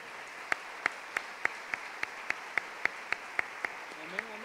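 A church congregation claps in unison as an offering to the Lord, sharp evenly spaced claps at about three per second, moderately loud in a quiet room, with a voice entering at the end.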